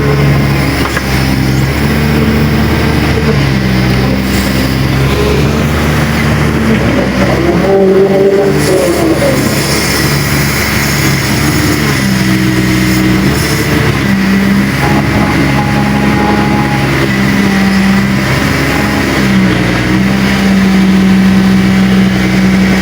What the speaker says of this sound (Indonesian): Langsung datang lagi truk yang baru.